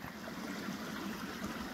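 A vehicle fords a shallow, rock-bottomed creek on the North Fork of the Coeur d'Alene River in Idaho, with steady rushing and sloshing water close by and no voices.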